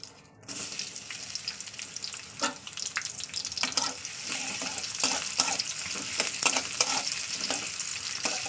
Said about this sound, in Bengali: তেলটা আমার গরম হয়ে গেছে আমি এবার দিয়ে দিচ্ছি পেঁয়াজটাকে